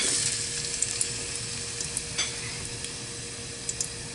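Onions frying in a hot pan for corned beef, giving a steady soft sizzle with faint scattered pops and light stirring scrapes, fairly quiet and without talk.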